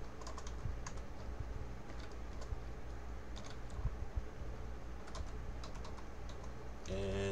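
Steady typing on a computer keyboard, with a continuous run of soft, even key clicks at moderate volume. Nobody speaks.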